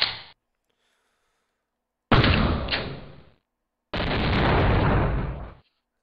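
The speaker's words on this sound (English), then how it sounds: "If you fire 40 bullets with the Uzi." Uzi gunfire from the video game Hacx Reprogrammed: three separate loud bursts of shots, each sharp and dense, one very short and two longer sustained runs, with silent gaps between them.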